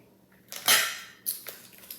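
A knife slicing chicken roll-ups in half on a board, giving a sharp clattering contact followed by a scraping tail, then a second lighter cut-and-tap about half a second later, fairly close and with no talk.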